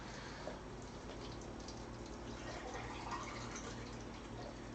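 A kitchen tap runs to refill a water container, a faint steady trickle with a low hum beneath and no voices.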